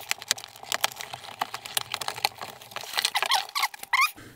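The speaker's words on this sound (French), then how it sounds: "Et ben allez, c'est parti, on déballe." A Kotion Each G9000 gaming headset being unboxed, with close crinkling packaging, light taps and squeaky plastic rustles coming in quick irregular bursts, with no talking.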